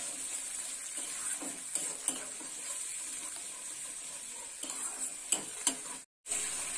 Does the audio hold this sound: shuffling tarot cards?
no